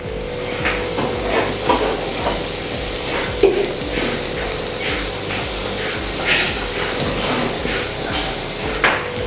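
Grated coconut and fish roe are stirred in a pan, a continuous low sizzle with scattered scraping and knocking of a utensil against the pan, close by and steady.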